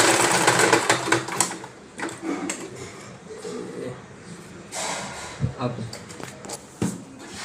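A sewing machine stitching a seam on a pair of shorts during a tailoring practice session, running in short bursts of rapid rattling with pauses, while people talk over it.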